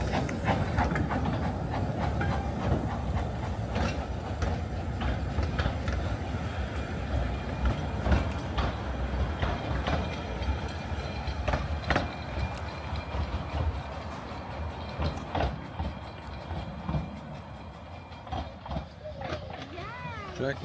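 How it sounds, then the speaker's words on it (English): A Talyllyn Railway train runs by on the narrow-gauge line in Wales, with a steady rumble and rhythmic clatter of wheels lasting throughout, while people talk nearby. "So thought we'd just see this train go."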